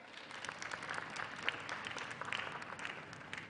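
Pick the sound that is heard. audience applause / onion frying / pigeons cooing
audience applause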